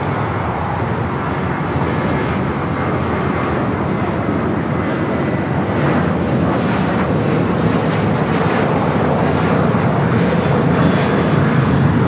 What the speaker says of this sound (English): This is Southwest Airlines 2579 taking off to Phoenix on the 737-700